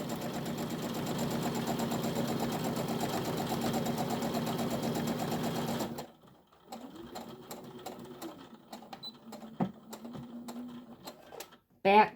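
A sewing machine runs a steady close whir stitching a tote bag seam for about six seconds, then stops, followed by quieter handling noises and clicks.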